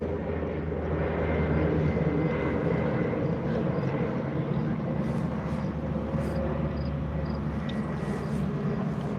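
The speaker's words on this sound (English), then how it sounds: "there's a plane flying overhead" A plane passes overhead at dusk above a sailing boat, a steady, broad rumbling drone that holds through the whole stretch at moderate loudness with no talk over it.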